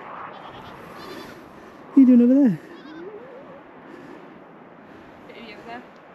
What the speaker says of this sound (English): These are wild goats now, aren't they, live on the mountain?